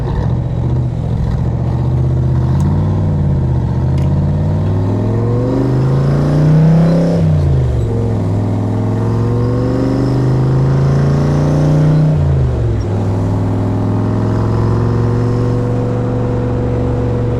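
A 1965 Backdraft Cobra replica's engine rises and falls in pitch as it accelerates through gear changes while driving, a loud, steady onboard drone with no speech heard.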